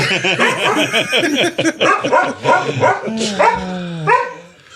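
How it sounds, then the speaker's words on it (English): A dog barks in rapid, loud bursts of excited yips and bow-wows, close by, ending with a few drawn-out whining barks. "Listen to the dog."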